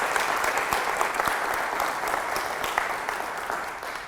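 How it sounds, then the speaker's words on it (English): Audience at a chorale student recognition program applauding a student and mentor, a steady sustained wash of many hands clapping at moderate level with no speech on top. "Let's give them a great round of applause."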